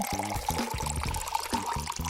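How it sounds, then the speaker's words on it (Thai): Blue water is poured into a glass, a steady close gurgling trickle with faint rhythmic clinking, continuous and without talk. "เราจะต้องเทน้ำสีฟ้าลงไปก่อน"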